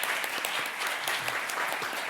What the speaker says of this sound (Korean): 이번 세션을 자장을 맡아주신 이광우 수석부장 판사님을 비롯하여 발제자, 토론자분들께 다시 한번 큰 박수 부탁드립니다.